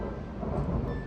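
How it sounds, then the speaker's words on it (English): Rumbling thunder rolls through a storm in Mexico, a dense low-pitched roar that fills the whole moment steadily, loud and close with no voices over it. "Here comes the thunder and lightning."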